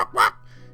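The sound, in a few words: dog-like wormling dragon barking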